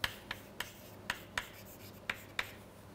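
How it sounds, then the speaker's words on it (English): Capital letters written during a physics lecture, heard as seven or eight sharp, evenly spaced taps and short strokes of chalk or marker on a board, faint and close in a quiet room. "It's so important that I write it in capital letters."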